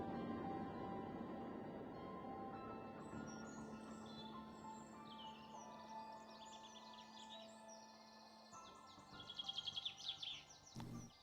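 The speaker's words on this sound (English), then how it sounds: "By the sounds of the birds chirping" Bird chirps and whistled calls from the 7 Days to Die video game, faint and distant at first over a low steady hum, then a brighter, busier burst of chirping near the end.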